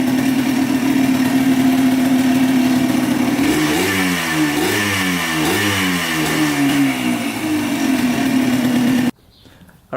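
A Yamaha Blaster ATV engine runs after a carburetor fix, idling loud and close with a steady buzzing tone. Midway it climbs through several quick rising revs, settles back to idle, then cuts off abruptly near the end.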